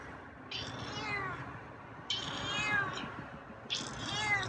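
Feral cat meowing three times in long, wavering cries, close and fairly loud, spaced a second or two apart with no talking over them.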